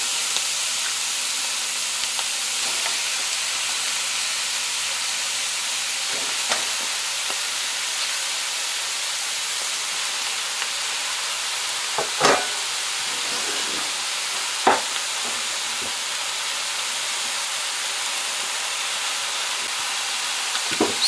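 Shrimp fry in a pan for shrimp fried rice, giving a loud, steady sizzling hiss that runs throughout, with a few sharp clicks and knocks from stirring.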